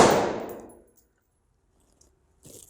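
A gunshot strikes a steel target during close-quarters shooting practice, giving one loud ringing clang that fades over nearly a second, followed by silence and a faint later clatter.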